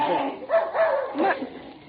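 A dog barking in an old radio comedy set at Christmas, with three short yappy barks and whimpers close by. A voice speaks alongside and may be imitating the dog.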